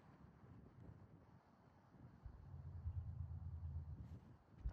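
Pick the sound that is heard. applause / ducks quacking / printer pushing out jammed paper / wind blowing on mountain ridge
wind blowing on mountain ridge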